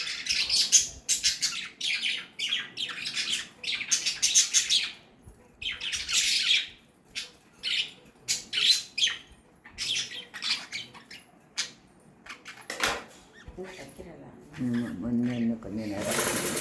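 Lovebirds chirping and squawking in bursts of shrill, fast calls at close range, with irregular pauses between flurries and a few low, sustained tones toward the end.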